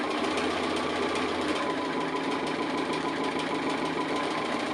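A sewing machine runs continuously, stitching an appliqué house design, its steady fast motor whir and needle chatter close and even throughout, no voices.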